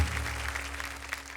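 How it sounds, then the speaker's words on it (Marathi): An audience at a kirtan competition show claps steadily, a dense even patter of applause sustained throughout at moderate volume. "जोरदार टाळ्या झाल्या पाहिजेत"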